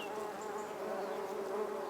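A dense, steady drone of many honeybees buzzing inside a wooden frame hive, close and continuous, with no voices.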